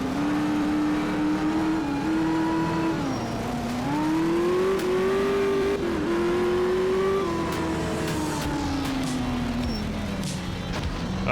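Rally car in the video game Art of Rally driving and revving continuously, the engine note rising and falling through gear changes and steady close-up engine drone with no talk over it.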